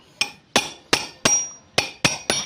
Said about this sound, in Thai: อันนี้ค้อนเคาะโดยตรงเลยก็ได้